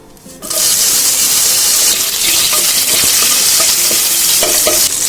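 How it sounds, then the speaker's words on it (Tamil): Curry leaves hit hot oil for village-style mutton kuzhambu with a sudden loud, crackling sizzle that holds steady and close, spattering throughout with occasional pops. "ஆயில் ஹீட் ஆனதும் கருவேப்பிலை சேர்த்துக்கலாம்"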